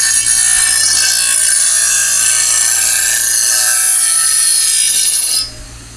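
A Razer Sharp sharpening wheel spins with abrasive against a knife blade, giving a steady, loud, hissing grind that holds evenly for over five seconds, then stops abruptly near the end.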